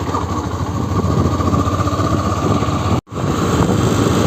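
A Honda Shine 125 motorcycle ridden along a road gives a steady, close engine drone with wind rush, briefly cutting out for an instant near the end before resuming.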